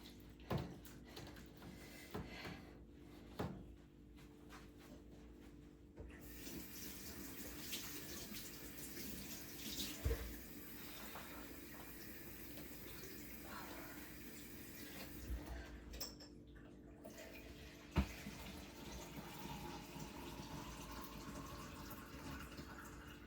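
Tap water runs steadily into a container during yarn dyeing, a continuous rushing fill with a few brief clunks and knocks, fairly close and without talk.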